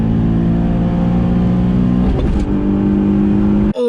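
A 2008 Nissan 350Z exhaust revving hard, a rich, loud engine note holding high then rising and dropping sharply before settling back, close and alone, ending with an abrupt cut.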